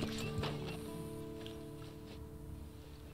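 A horse in the Red Dead Redemption 2 video game, with hoof clops and a brief whinny-like call over steady in-game ambience and tonal background music. No voices.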